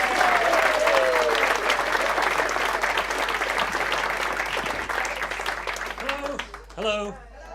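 A comedy-night audience applauds as a comedian comes on stage. The steady, close clapping fills the room for several seconds and then thins out as some voice-like sounds rise near the end.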